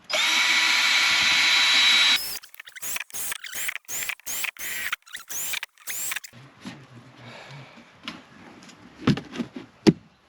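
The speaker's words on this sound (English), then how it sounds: "What I've got to do is drill a few holes in it." Power drill boring holes in a plastic container set into a dug hole on a terrace roof: a loud sustained whir, then a quick series of short bursts, followed by quieter handling clatter.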